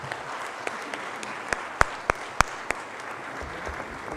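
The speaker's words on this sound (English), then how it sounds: "Ladies and gentlemen, round of applause for the panel." Conference audience applauding a panel on sustainable banking, a steady, moderately loud clapping wash with a few sharp nearby claps standing out, no talking over it.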